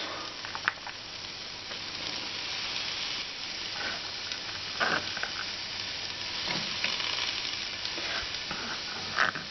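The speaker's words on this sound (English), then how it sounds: "So now I'm just going to add the celery, finely chopped." Finely chopped celery frying with garlic, onions and a little olive oil in a pan, a steady, moderate sizzle with a few soft stirring scrapes and taps, close by.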